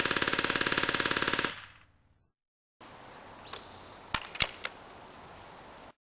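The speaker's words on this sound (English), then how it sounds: "Here's the Tech Force 97 shooting in fully automatic mode." A Tech Force 97 air rifle fires on full auto, a fast, even string of loud snapping shots that stops abruptly. After a pause comes a few faint clicks and knocks.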